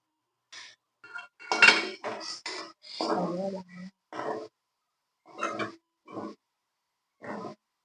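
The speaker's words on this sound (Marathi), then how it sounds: "मी आता झाकण काढते आणि वाटी सुद्धा उचलते" A pot lid lifted off and a bowl picked up at the end of cooking paneer shawarma filling, giving a series of separate metallic clinks and clatters with short pauses between them in an otherwise quiet kitchen.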